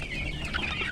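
Chickens cluck and chatter continuously in a short, dense burst, close and fairly loud.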